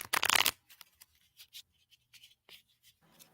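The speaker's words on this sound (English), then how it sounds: "One more time shuffle and then I'll side shuffle" A loud, fast riffle of tarot cards shuffling up close, then quieter scattered taps and slides of cards being handled.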